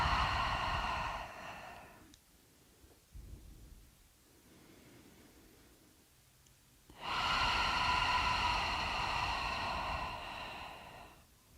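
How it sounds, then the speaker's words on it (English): A long, deep exhale through an open mouth at the close of a yoga session, a breathy rush lasting about two seconds, then a pause with faint breath sounds and a second sustained airy breath, close and alone. "Open the mouth, exhale it out."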